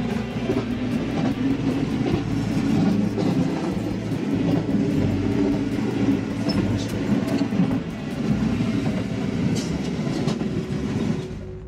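A Japanese rapid-service commuter train rolls along the rails, a steady, close rumble with rhythmic wheel clatter that continues unbroken throughout, no voices.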